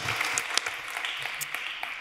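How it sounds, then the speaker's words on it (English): Applause from an audience at an investor reverse-pitch event on stage, a steady, fairly quiet wash of clapping lasting a couple of seconds. "Round of applause."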